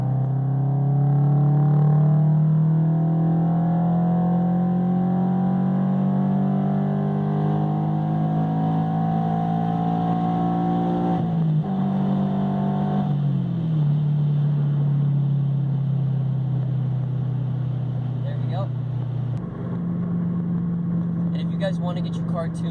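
Subaru BRZ fitted with a Borla unequal length header pulls up to 4,000 RPM, its loud, steady exhaust drone rising in pitch, dipping midway, then holding on a lower throttle note through the clip.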